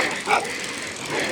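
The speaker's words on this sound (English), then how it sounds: "This is when a group of shepherd dog from a shepherd camp started charging on us." Shepherd dogs from a herders' camp charge at cyclists on the high-altitude Umling La climb, giving a short sharp bark or yelp over wind noise and faint voices.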